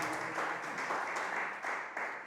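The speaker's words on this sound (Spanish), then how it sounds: "dan un aplauso al grupo de alabanza" Applause from a church congregation for the praise group, a dense wash of clapping heard at moderate distance for a couple of seconds.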